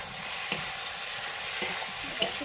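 Mixed vegetables cooked with spices fry in a pan as mustard paste goes in. A steady close sizzle runs throughout, broken by three sharp scraping clinks from a utensil. No one speaks.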